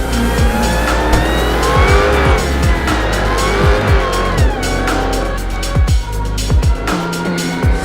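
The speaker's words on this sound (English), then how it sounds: "2020 Dodge Charger SRT. Hellcat Widebody with launch control." A 2020 Dodge Charger SRT Hellcat Widebody roars hard under launch control, its loud engine revving with rising and falling pitch as gears change, tires squealing, heard close and continuous.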